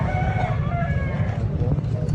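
A young rooster, a stag, crows amid the bustle of a busy Cebu City public market poultry expo, its voice mixed with other fowl calls over a constant low crowd murmur.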